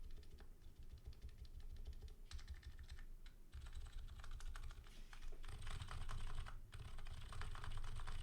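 Rapid typing on a Metal 980 mechanical keyboard fitted with blue switches, keys bottoming out in close, crisp clicks and clacks with brief pauses between bursts, heard alone.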